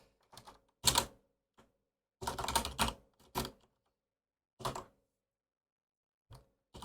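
Bursts of keyboard typing while someone enters pin labels for a HUB75 LED panel connection, with clustered keystrokes separated by pauses. The clacks are close and fairly crisp, and no one speaks.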